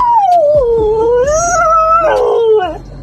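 A dog howls in reply to a man asking for directions on a street in Goregaon, a long wavering, mournful howl rising and dipping over several seconds, close and loud, with a few faint yips and background noise.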